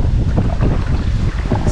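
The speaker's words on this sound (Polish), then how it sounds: "Cały czas pod wiatr." Steady headwind buffets the microphone with a rough, constant roar, close and loud, over faint water movement around a kayak on a river.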